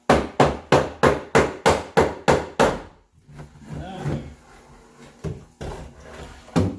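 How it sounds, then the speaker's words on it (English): Eight rapid, evenly spaced knocks of a rubber mallet against wood, then scraping and clattering as wooden support pieces come loose, followed by a few more taps. "now I'm going to use my rubber mallet hammer here"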